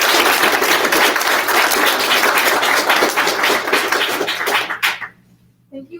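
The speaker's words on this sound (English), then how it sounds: "Please join me in thanking them again with a round of applause." Sustained, loud applause from the audience at a 2022 National Honor Society induction ceremony at ECHS fills the room for about five seconds, then cuts off abruptly into near silence.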